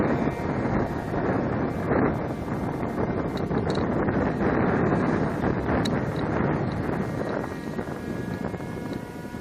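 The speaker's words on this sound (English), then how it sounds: "We do have a good wind today, so that's good." Strong wind buffeting the microphone outdoors, a continuous rough rumbling roar that stays loud and steady throughout with no voices.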